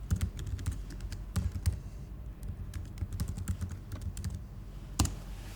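Close, quiet clatter of keys as an email address is typed on a computer keyboard, irregular bursts of taps with short pauses and no talk.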